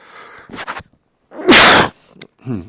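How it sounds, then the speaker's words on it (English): A single sharp, loud sneeze bursts out between brief, soft vocal noises and breaths, close to the listener. "I'm getting some sneezing attack."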